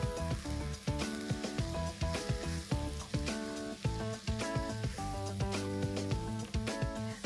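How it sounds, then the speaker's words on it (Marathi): Spring onion greens with red chili powder and a little coriander sizzle and fry steadily in a pan, stirred with repeated scraping strokes in a close, busy rhythm throughout. "आता हे परतून घेऊया"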